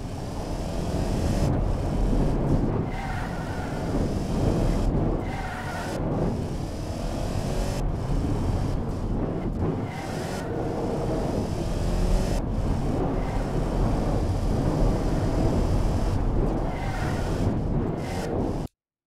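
A 1976 family sedan driven flat out in the BeamNG driving game, its engine droning loudly and continuously with repeated rises and dips in pitch as it revs through gears, with brief cuts between shifts.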